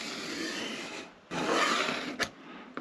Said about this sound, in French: je vais me tracer un trait droit